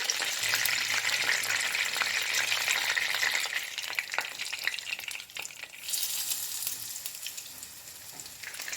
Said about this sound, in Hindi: और बाकी की फिश फ्राई करेंगे।